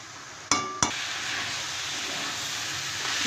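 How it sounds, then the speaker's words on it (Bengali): Mixed vegetables sautéed in a pan with salt and turmeric for a dry chorchori give off a steady, close sizzling hiss, broken early by two sharp metallic clinks of a utensil against the pan. "এই যে সবজিটা আমি ভাজা ভাজা করে কষিয়ে নিয়েছি।"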